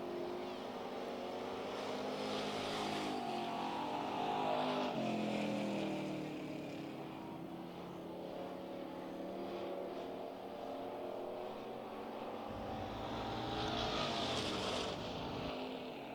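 Thunderstock division race cars running hot laps during qualifying at the Northern Summer Nationals, a steady blend of engine roar from several cars circling the track, rising and falling at a distance with no talk.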